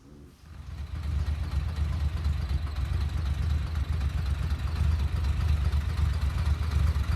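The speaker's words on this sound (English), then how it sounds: "With the rebuilt injection pump and new throttle bodies, the engine idles very well." A 1972 Porsche 911T with a rebuilt injection pump and new throttle bodies idles steadily after starting, a low even rumble holding constant and fairly loud with no talk over it.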